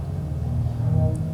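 Ambient electronic music playing from a laptop, a low, droning, beatless texture with soft tonal swells, steady and moderately loud.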